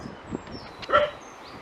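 Pet dogs giving a brief bark or yip at moderate distance over quiet room tone, with a fainter sound just before it.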